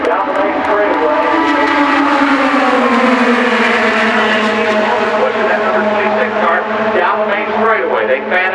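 A pack of IndyCar race cars roars loudly at the green flag start at Pocono, engines rising in pitch as they accelerate together down the straightaway, with an announcer talking over the steady, overlapping engine drone.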